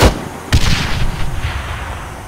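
Loud close gunfire in the military shooter ArmA 3, a heavy sharp shot followed by another blast with rolling echoing tail, no talking.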